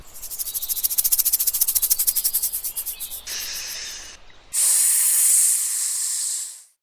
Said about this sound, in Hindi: बच्चों चलो, अब मैं तुम्हें स्नेक से मिलाता हूँ और उसकी आवाज भी सुनाता हूँ।